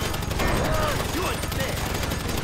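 Gunfire in Grand Theft Auto V, a dense continuous rattle of shots mixed with chaotic game noise and shouting voices.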